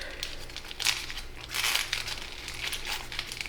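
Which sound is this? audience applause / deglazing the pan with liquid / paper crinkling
paper crinkling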